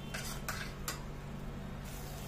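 A spoon stirs home-frozen peas into fried masala in a pan for matar malai mushroom, giving a few soft scraping strokes over a low, steady background hum, close and quiet with no voices.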